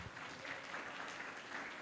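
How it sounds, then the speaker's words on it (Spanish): Faint applause from a gathering honoring a café's owners, a short soft patter of clapping heard from a distance with no voices over it. "un aplauso para ustedes"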